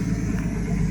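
A turbocharged BMW E36 engine runs steadily nearby, a low, even rumble at idle with no talk.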